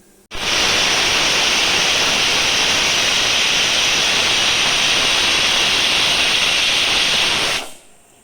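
A pressure cooker hisses steadily at full pressure while duck curry cooks, a loud continuous rushing steam release lasting several seconds before cutting off abruptly.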